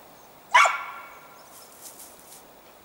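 Laika hunting dogs barking at a squirrel in the woods: one sharp, fairly close bark with a ringing tail, followed by a few faint, distant yips.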